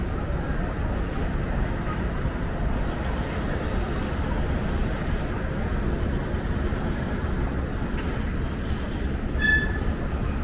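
A subway train at Hudson Yards station in Manhattan rumbles steadily with a constant low roar and faint rattling, with brief squeals near the end; no clear voices.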